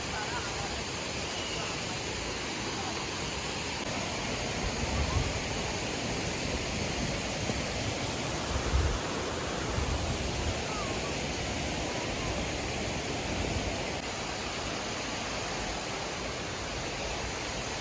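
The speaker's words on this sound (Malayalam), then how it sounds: "കളകള ഒഴുകുന്ന അരുവി" Steady rushing water from a babbling stream near Anayadikuthu waterfalls, a broad continuous wash that holds evenly throughout with slight surges, heard close and fairly loud with no clear talk.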